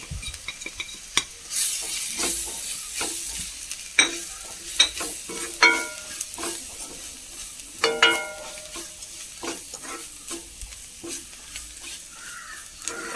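Onions with chilli, coriander and turmeric powders fry in a pan for kadala masala, soft sizzle under regular scraping stirs and spoon clinks against the pan.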